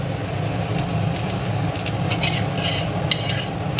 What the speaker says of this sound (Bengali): অল্প পরিমাণ কালো জিরে দিয়ে দেবো।